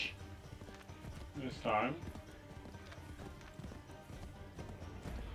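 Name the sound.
horse hooves galloping in video game Assassin's Creed 3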